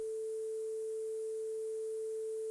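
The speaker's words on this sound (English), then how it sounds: "With a Dither, the tone is clean and there is background noise." A steady 440 Hz test tone with dither plays as one unbroken pitch above a soft, even hiss of background noise, then cuts off abruptly at the end.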